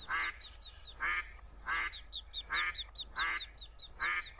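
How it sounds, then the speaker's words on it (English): A duck in the video game A Date in the Park quacks anxiously for its duckling, giving about seven loud, evenly spaced quacks in a steady rhythm, close and alone. "Duck is anxiously calling for the duckling."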